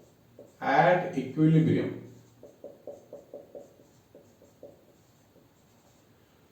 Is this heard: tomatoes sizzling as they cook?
no